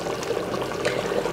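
Water poured into a pot of traditional Greek meat soup on the stove, a close, steady splashing pour with no talk.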